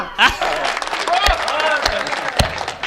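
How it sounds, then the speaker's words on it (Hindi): Applause from an audience at a Hindi comic poetry recital, a loose burst of clapping mixed with voices and laughter, fairly close and lively for a few seconds. "तालियां"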